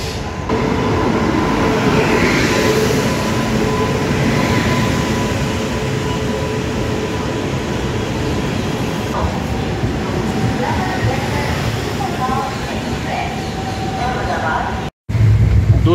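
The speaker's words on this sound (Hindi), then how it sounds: "सुपर फास्ट ट्रेन है।" A superfast double-decker train bound for Mumbai rumbles along in a steady loud roar with faint rhythmic rattling, heard from inside the carriage with brief talk over it.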